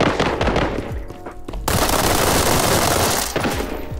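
Rapid automatic gunfire in the video game World War 3, dense loud bursts of shots filling the clip with a brief lull before another sustained volley.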